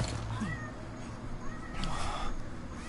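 Domestic cat meowing several times in a quiet room, its rising and falling calls cutting through low background noise and game audio.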